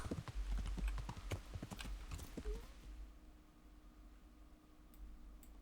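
Horse hooves clip-clop steadily through a forest in Kingdom Come: Deliverance, a close, rhythmic run of strikes that fades after about three seconds into quieter ambience.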